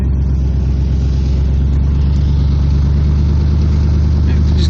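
A 1968 Dodge Charger R/T engine while driving: a loud, steady low rumble fills the cabin throughout, with faint voices in the car.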